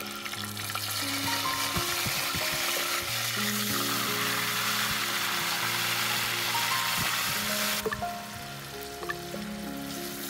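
Spices sizzle and fry steadily in hot oil for a chicken and potato curry, a dense continuous crackle that stays loud and close throughout, with occasional stirring clatter and no voices.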